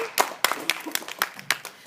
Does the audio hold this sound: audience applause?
yes